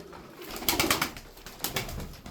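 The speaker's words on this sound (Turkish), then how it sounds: "Çoğu oyunlu kuşlar." Soft tumbler pigeon coos, a few low throaty bursts in two short clusters, close by with light background noise.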